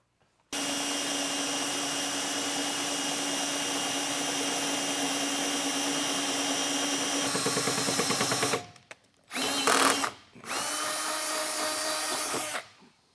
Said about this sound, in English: let's get this hole enlarged with our 9/16 drill bit